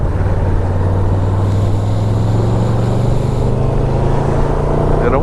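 Old Yamaha Venture touring motorcycle riding at steady speed, a loud, continuous engine drone with a held low tone mixed with wind rush, close and even throughout, with a slight rise in pitch near the end.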